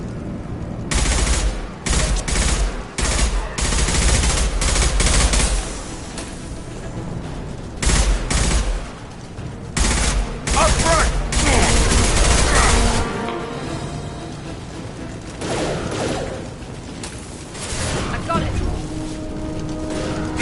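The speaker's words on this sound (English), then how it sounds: "Blue Suns and Vorcha are shooting anything that moves." Loud gunfire crackles through a Mass Effect firefight as Blue Suns and Vorcha shoot it out. Rapid automatic bursts and heavy booms come in repeated waves, with voices speaking over the battle.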